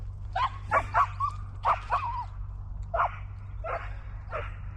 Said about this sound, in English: That's her excited bark